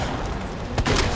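Gunfire from the Resident Evil 2 video game, a dense, loud burst of shots that thickens into a heavier cluster near the end of the short moment.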